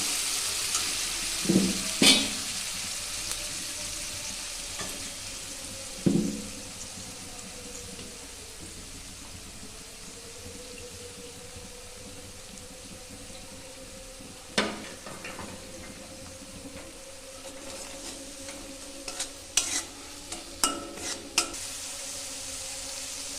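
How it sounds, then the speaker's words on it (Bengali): Spice masala for a chicken stew fries on a low gas flame, a soft continuous sizzle broken by scattered scrapes and clinks of stirring. "গ্যাসের ফ্লেমটা কমিয়ে দিয়ে এবার আমি মশলাটাকে একটু কষাবো।"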